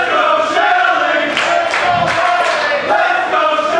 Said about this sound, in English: Crowd firmly behind Alex Shelley.